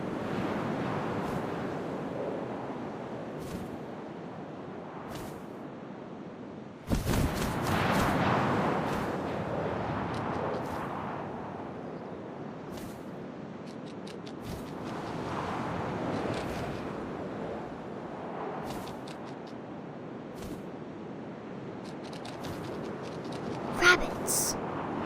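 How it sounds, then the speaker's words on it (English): Wind blowing steadily through a scene in the video game What Remains of Edith Finch, a continuous rushing whoosh with a sudden louder gust partway through and a sharp burst near the end. "First, all I heard was the wind."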